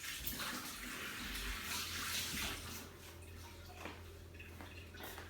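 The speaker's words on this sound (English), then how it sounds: "I'm just going to wash my hands and then we're going to season it." Tap water runs continuously as hands are washed in a kitchen, a soft, close hiss and splash that eases slightly partway through, with no speech.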